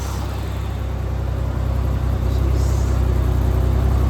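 A rough old 1987 Ford Bronco II engine, running after 15 years and smoking heavily, runs steadily up close, a low chugging rumble that grows slightly louder and revs a little toward the end.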